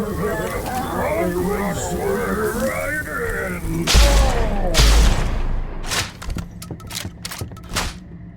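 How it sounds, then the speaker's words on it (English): Shotgun blasts in the video game Blood West: two loud, heavy booms around the middle, followed by a series of sharp, rapid cracks. Speech-like sounds run underneath the first half. "Think I can land the Molotov on him and then go off with the shotgun."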